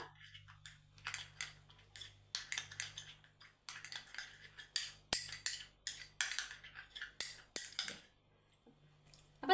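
Curd and orange peel powder face pack being stirred in a small bowl, with a dense run of quick light clinking and scraping taps that pause briefly near the end, close and without talk.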